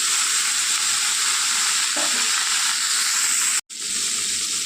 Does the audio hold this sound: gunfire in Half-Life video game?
no